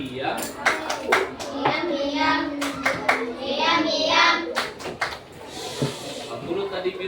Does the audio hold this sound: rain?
no